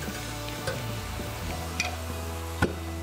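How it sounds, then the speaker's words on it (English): A cream sauce infused with onion, garlic and butter being stirred in a pan: a soft steady sizzle with a low hum and a few sharp clinks of the utensil against the pan. "Give it a stir around."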